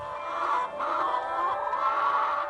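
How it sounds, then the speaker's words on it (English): Domestic hens clucking steadily, a dense close flock chatter of overlapping calls that stays loud and continuous without pause. "one of the most important creatures that man has tamed for his own use, the domestic hen"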